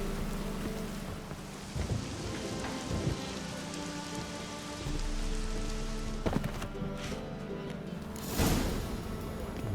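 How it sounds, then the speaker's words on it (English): Steady rainstorm in The Witcher 3, a dense wash of rain on surfaces that continues throughout, broken by a few louder thumps and a brief bright crackle near the end. "A storm, damn it."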